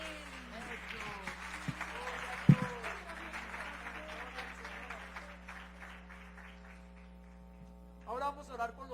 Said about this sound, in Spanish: Y la iglesia aplaude.